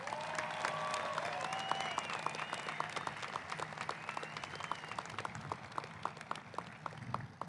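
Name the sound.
graduation audience applause for veterans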